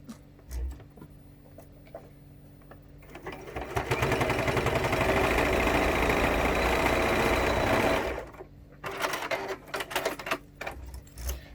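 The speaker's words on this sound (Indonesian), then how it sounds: "Kemudian kita akan jahit sementara dulu." Sewing machine basting a zipper pouch, starting with a few light clicks, then running in a steady loud burst for about four seconds before stopping and giving way to quiet handling noises.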